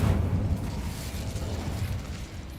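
Incendio fire spell cast in Hogwarts Legacy: a loud whooshing burst that flares at once and then rumbles on as a steady roar of flame, slowly fading.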